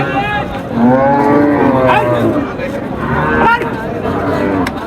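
Cattle at a busy village livestock market moo repeatedly, long, loud bellowing calls that overlap and stand out over a steady murmur of people and market noise.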